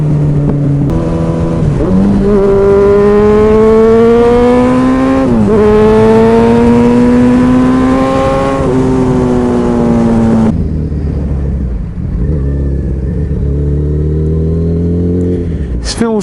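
A motorcycle engine revs and climbs through the gears on a road, its loud harmonic whine rising and dropping with each shift, close to the rider, then easing off to a lower drone; wind roars throughout.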